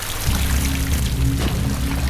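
Water flowing and pouring in a sewer in the game Estranged, a dense continuous rushing wash with a low rumble, steady and close throughout.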